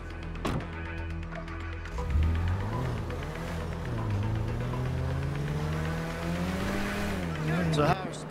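A car driving in GTA 5, its engine note rising and falling through gear changes with tire squeal and traffic noise, heard under a voice talking throughout.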